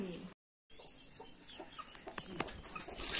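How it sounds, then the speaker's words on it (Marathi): Hens in a Marathi village yard, set loose to forage in hot March weather with newly hatched chicks, cluck in short, scattered calls amid outdoor noise, briefly cut by a gap near the start and growing busier toward the end. "कोंबड्या सोडल्यात हवेशीर चरायला."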